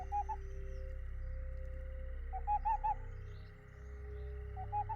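Tyrande's scouting owl in a video game gives short repeated hooting calls, three brief bursts spaced across a few seconds over a steady low ambient game hum.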